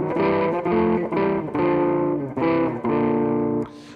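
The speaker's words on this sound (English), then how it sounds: "So the first riff is based around thirds." Distorted electric guitar in drop C tuning plays a riff built on thirds, heavy and loud, with chord stabs changing roughly every half second for about four seconds before cutting off, no voices.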